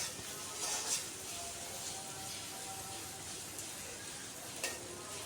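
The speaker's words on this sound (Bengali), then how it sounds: "এদিকে আমাদের পেঁয়াজটা ভাজা হচ্ছে" Onions frying in a pan for chicken dum biryani, a steady close sizzle that runs unbroken throughout, with a couple of faint clinks and no voices.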